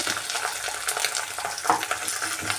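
Ginger paste frying with browned onions in a pan for a broad bean and egg curry, a steady close hiss and crackle with a few stirring scrapes, no voices.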